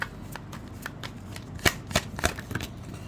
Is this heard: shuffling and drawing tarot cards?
yes